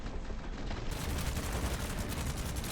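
Gunfire in a shooter video game, a loud, continuous, dense roar of rapid shots with no clear gaps, close and sustained throughout.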